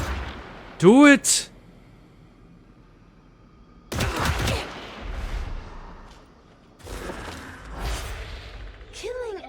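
Gunfire in Warhammer 40,000: Darktide, bursts of shots and blasts in a few clusters across the clip, mixed with game effects while a voice speaks briefly.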